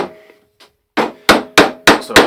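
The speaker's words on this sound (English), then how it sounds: "I'm basically just using my chisel to shape the wood along the lines I drew" A chisel is struck with a mallet to shape wooden planks for a Viking shield: after a few faint taps come five loud, sharp, close blows at an even pace, each ringing briefly.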